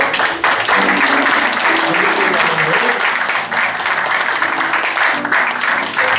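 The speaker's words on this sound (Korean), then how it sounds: "큰 감사의 박수 한번 쳐주십시오" An audience in a church meeting hall claps in thanks, a loud, dense and steady burst of applause that fills the room, with faint voices mixed in.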